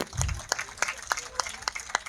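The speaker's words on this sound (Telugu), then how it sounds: "గట్టిగా చప్పట్లు కొట్టండి." A small audience at a Christmas dance performance in Kichappagudem clapping in a brisk, regular rhythm, the claps fairly even and moderately loud.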